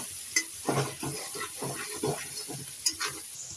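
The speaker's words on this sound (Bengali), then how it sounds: "এরপর পেঁয়াজ ভাজা হয়ে গেছে" Onions frying in a pan on a stove, with a soft steady sizzle and scraping stir strokes at irregular intervals, plus a couple of sharp utensil clinks against the pan.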